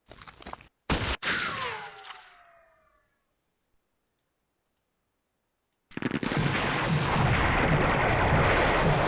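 In the Campaign Series: West Front wargame, a 40mm gun fires a few sharp, loud shots with ringing echoes that fade into silence, then a dense, roaring blast of noise rises and holds.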